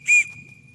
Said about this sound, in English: I'm gonna wait for the 2 whistle blast to return rifle.